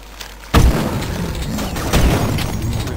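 A rocket detonates with a sudden loud boom in the Duke Nukem 3D video game, followed by a rolling, crackling blast tail and a second thudding impact about a second and a half later.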